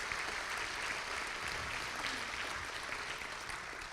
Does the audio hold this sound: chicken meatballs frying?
no